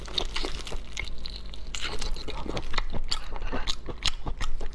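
Close, wet biting and chewing of raw spicy seafood, with soft crunches and clicks repeating irregularly over a low steady hum, no talk.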